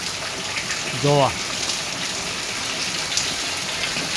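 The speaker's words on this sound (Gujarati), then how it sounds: "વરસાદ પડી તમે જોવો ધોધમાર વરસાદ ચાલુ છે" A heavy downpour, the season's first rain, pours as a dense, even hiss throughout, with a short spoken word breaking in early on.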